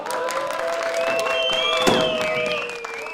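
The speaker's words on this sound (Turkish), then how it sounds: "Alkışlarınızla Ahmet Pilivitik geliyor" A studio audience of a Turkish television show applauds steadily with dense clapping. Music with sustained tones plays over it, and a few cheers rise now and then.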